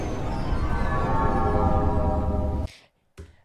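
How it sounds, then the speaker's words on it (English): A door sound effect in a short film gives a loud, droning mechanical rumble with a grinding tone that stops suddenly, then a brief low thump after a short silence. "That sound effect sounded so much cooler when I was looking for sound effects for that door."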